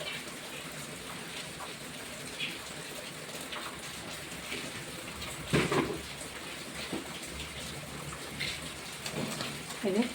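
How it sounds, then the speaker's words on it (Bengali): Two cups of flour are sifted for rajbhog, a soft continuous rustling hiss with light irregular taps of the sieve, close and quiet. "ময়দাটা ভালো করে চেলে নিচ্ছি।"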